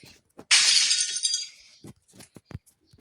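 Glass shatters in a video game: one loud, bright crash that rings and crumbles for about a second, followed by scattered small clicks and taps.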